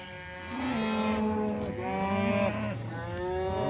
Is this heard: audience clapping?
no